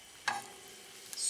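Garlic hits a hot pan of foaming butter with a brief sizzle and stir, followed by a quiet steady hiss and a second soft burst near the end, heard close with no talking.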